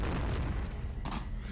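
A video game explosion in a war clan match sounds as a loud, dense booming rumble that fills the whole stretch, with a sharper burst near the end.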